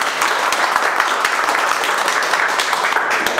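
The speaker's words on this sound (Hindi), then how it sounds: "एक बार जोरदार ताली बजाओ उनके घर वालों के" An audience at a coaching class event claps loudly with dense, steady applause that holds for a few seconds.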